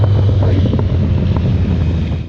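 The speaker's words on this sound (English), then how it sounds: "listen to this bike as I downshift coming to a stop" A 2015 Triumph Speed Triple 1050 with a competition exhaust downshifts while coming to a stop, loud close engine roar with stepped pulses and crackle, fading slightly at the end, no talk.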